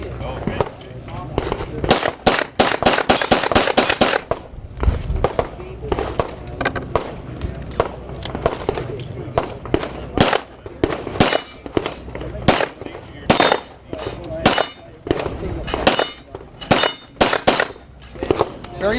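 A 9mm full-size 1911 pistol fires repeated sharp, loud shots, including a quick string early on and scattered single reports later, with someone talking between and over them.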